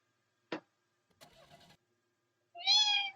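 A short click and a brief rattling noise come first, then a single clear, high meow from a cat.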